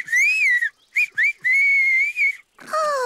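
A cartoon marmot whistles a bright, wavering tune in several bursts of varying length, loud and close, with brief pauses between phrases and no talking.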